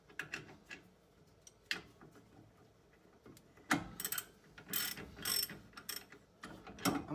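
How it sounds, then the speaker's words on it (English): A ratchet works on the rear brake disc bolts of a motorcycle fitted with Godspeed discs, close quiet clicking in short runs with a few louder metallic clacks and handling noises. "Check which way your ratchet's going."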